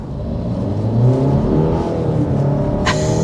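A 2024 Alfa Romeo Giulia Competizione with a turbo engine accelerating hard, a loud close rising drone with layered harmonics, ending in a brief sharp whoosh.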